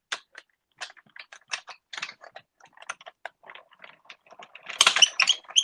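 A hand-cranked crafting machine turns through paper, giving a run of quiet, irregular ratcheting clicks and mechanical ticks that grow busier and louder near the end.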